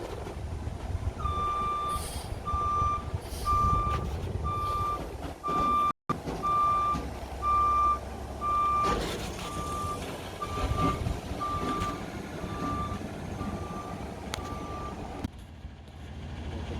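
A garbage truck sounds its reversing alarm in a steady run of evenly spaced, piercing beeps over a constant diesel rumble and street noise, close by and loud, with no talking.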